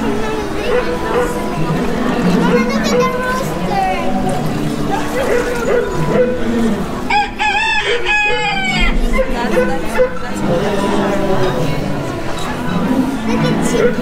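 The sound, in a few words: chicken crowing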